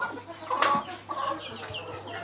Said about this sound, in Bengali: এগুলো ডিম পাড়া মুরগি সব।